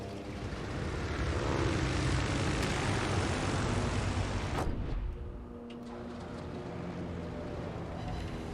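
Carrier fighter planes fly in a naval video game, giving a loud, steady propeller-engine drone that fills the scene, then eases slightly and carries on at a lower level.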